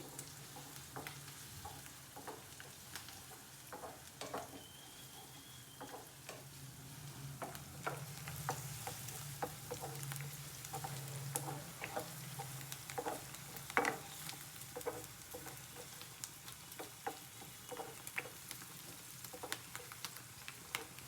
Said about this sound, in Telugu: ఇక ఉల్లిగడ్డలు వేసేసుకున్నాం కదా, ఇవి కొంచెం ఫ్రై కావాలి.